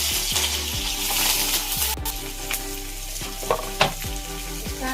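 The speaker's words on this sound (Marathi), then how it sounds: "कांदा आता भाजून घेते तेलामध्ये" Onion fries in hot oil seasoned with mustard seeds and cumin for upma, a constant close sizzle with occasional light clinks of a stirring utensil against the pan.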